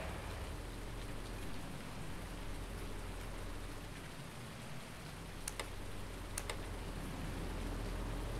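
Steady rain in the Farming Simulator 19 video game, a dense, even hiss of falling rain that continues unbroken throughout, with a couple of faint sharp ticks near the end and no talking.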